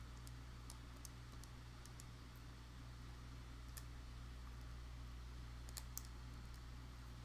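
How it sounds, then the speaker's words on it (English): Soft, sparse calculator key clicks tapped out over a steady low hum, quiet and close, with short gaps between presses. "And typing that into the calculator"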